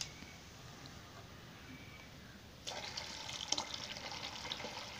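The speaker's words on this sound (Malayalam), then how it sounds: "അതിനുശേഷം മിക്സ് ചെയ്ത ഈ ചെറിയ കപ്പിലത്തെ വെള്ളം ആ വലിയ പാത്രത്തിലേക്ക് ഒഴിക്കുക" Dye water tipped from a small cup into a large pot for recolouring jeans: a faint hush, then from midway a louder steady splashing pour with a few sharp drips, close by and without any voices.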